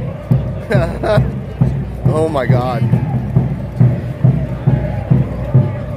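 A huge crowd of football hooligans marches in a video game, with heavy, evenly spaced footfalls thumping under a wash of crowd noise. A player's excited voice speaks over the tramping.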